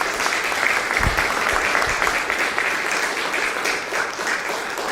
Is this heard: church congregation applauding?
yes